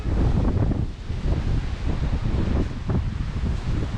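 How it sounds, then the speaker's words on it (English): Steady, fairly loud wind buffets an outdoor spot near a home under renovation on a breezy day, a continuous rumbling gust with no talk over it. "It is breezy."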